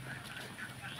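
Faint, short run of Khaki Campbell ducks quacking in a flock on a mango-orchard farm, several soft nasal calls repeating at a quick, regular pace over low background noise.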